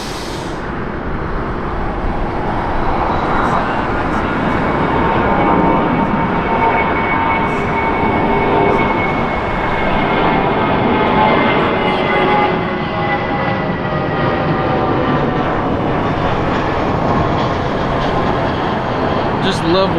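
Airbus A380 airliners arriving at LAX, a continuous loud jet roar with a shifting whine that swells and holds for the full stretch, with a person speaking intermittently over it.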